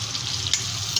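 Sliced large onion hitting hot oil in a pan, giving a steady, close hiss with a couple of brief sharper sputters, no voices over it.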